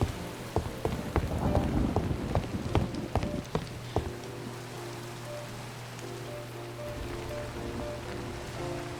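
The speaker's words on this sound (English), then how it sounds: "If I don't get hit with lightning, standing on the roof in a lightning storm" A lightning storm in a video game brings steady rain pattering on surfaces, with sharp drop-like taps early on and a low thunder rumble, fairly faint and without talk.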